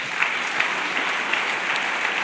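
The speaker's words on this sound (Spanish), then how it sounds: "Dale otro fuerte aplauso al Señor." A church congregation claps for the Lord during a Spanish-language sermon, a steady, even wash of applause from a crowd with no voices on top.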